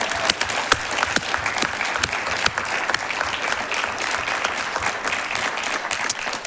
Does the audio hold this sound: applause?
yes